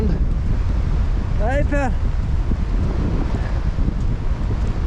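Wind and surf roar on a stormy beach at Rossnowlagh in Donegal, a loud, steady wash of blustery noise, with a brief whistle and a short spoken greeting partway through.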